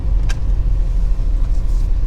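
A manual-transmission car being road tested gives a steady, loud, low engine and road rumble from inside the cabin. No one speaks.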